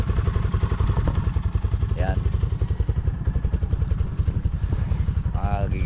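A motorcycle engine warms up at idle close by, a loud, steady low putter with an even pulsing rhythm running the whole time, while someone talks over it.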